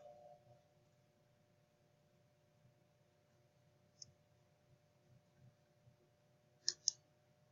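A computer mouse clicks while a web page loads in a home page template editor: a lone faint click, then a quick louder pair a moment later, against a quiet room hum.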